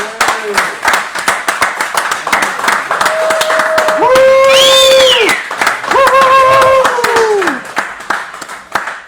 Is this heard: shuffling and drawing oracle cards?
no